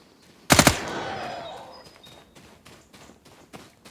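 A quick burst of three or four loud gunshots in the survival game Fear the Night, followed by a long ringing decay and a few fainter scattered shots and clicks afterward.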